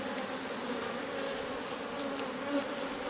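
Carpatica honey bees buzz densely around an open hive during an inspection, a continuous close swarm drone with individual bees swelling louder as they pass near, and no voices.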